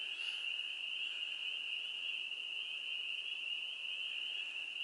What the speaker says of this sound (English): I open the window and listen to the frogs.